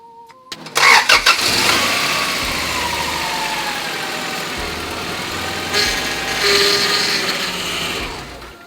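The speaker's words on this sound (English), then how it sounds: "turn on the motor" A Honda Prelude engine cranks briefly, catches and settles into a steady idle, with a small rise in revs near the end and no talking over it.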